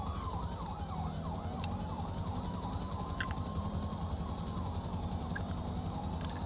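Wailing siren sweeping up and down continuously under steady car cabin and road noise, moderately distant and fairly faint, with no speech over it.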